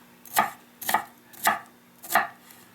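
Four crisp knife chops through jalapeno peppers on a cutting board, evenly spaced about half a second apart, close and alone with no talking.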